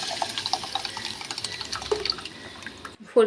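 Cooked dal being poured into a pan for dal tadka gives a wet, splashing liquid pour that runs steadily for about three seconds and ends in a brief louder clatter, with no talking.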